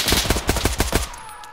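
Rapid automatic gunfire from the military shooter game Arma on the Chernarus map, a fast burst of about eight loud, evenly spaced shots that stops abruptly, leaving a quiet tail.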